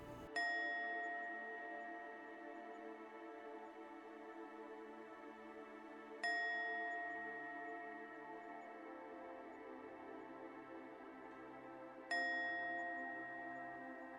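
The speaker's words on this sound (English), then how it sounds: "You will hear a series of 3 chimes starting now" Three clear bell chimes ring out one at a time, evenly spaced about six seconds apart, each tone lingering and slowly fading over a quiet background.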